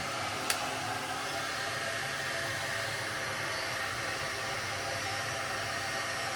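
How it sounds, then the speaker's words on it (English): A hair dryer set to medium blows on synthetic wig fibers with a constant, close, airy roar that holds steady throughout, with one brief small click near the start. "So I'm gonna go back to medium till it feels like the fibers are kind of dry, and then I'll cool shot it."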